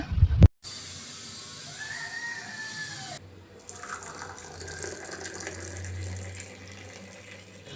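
Tap water running while fruit baskets are washed at a sink, a fairly faint continuous splash after a brief loud knock, with a rooster crowing faintly in the background.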